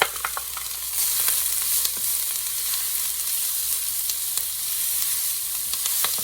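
Diced sweet onion, shredded carrot and celery sauté in a pot with a loud, constant close sizzle, broken by light scrapes and taps of stirring, with no voices.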